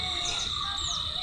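Morning birdsong with peacocks in a natural outdoor setting: a few faint chirps and calls rise over a steady, high continuous drone and low background rumble.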